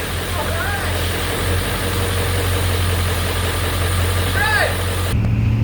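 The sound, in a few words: 1997 Ford F350 Powerstroke diesel engine running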